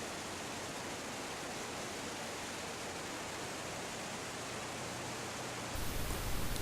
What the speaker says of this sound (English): Rapids start forming along the path